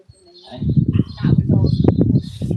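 Racing pigeons cooing in a loft, soft murmuring coos and bird calls close by, overlapping and continuous, with talk mixed in.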